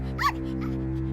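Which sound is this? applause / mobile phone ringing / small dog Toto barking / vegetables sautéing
small dog Toto barking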